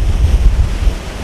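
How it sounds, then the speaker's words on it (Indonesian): Strong wind buffets the microphone at a beach beside a large house, a loud, gusty low rumble that rises and falls continuously with surf-like roar underneath. "anginnya gede banget"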